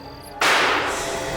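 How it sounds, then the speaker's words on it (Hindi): A single sharp, loud gunshot cracks suddenly after a quiet moment, then leaves a long decaying echo. "गोली चल गई?"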